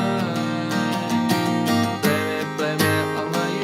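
Acoustic guitar strummed through the chorus of a song, steady rhythmic chords with bright string attack, close and full, no voice.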